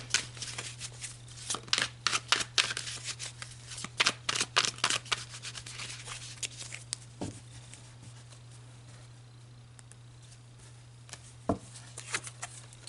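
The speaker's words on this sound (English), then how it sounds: "So let's pull you some tarot cards to dive deeper into this Saturn energy." Tarot cards shuffled close up in a reading, a run of quick papery riffles and taps, busier in the first half then thinning to sparse soft clicks over a steady low background hum.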